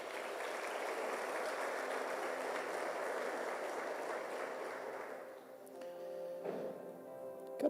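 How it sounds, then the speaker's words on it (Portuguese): A church congregation applauds during a worship service, a steady, dense wash of clapping that tapers off near the end as instrumental tones and clicks emerge. "Vamos aplaudir Jesus"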